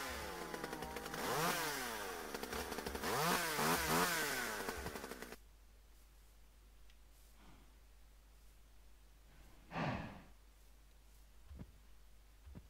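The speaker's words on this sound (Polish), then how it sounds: "słyszeliście tą piłę?" Chainsaw-like engine whine in a modded Minecraft world, a loud revving buzz that rises and falls in repeated sweeps for about five seconds, then cuts off, leaving quiet rustling with a brief burst later.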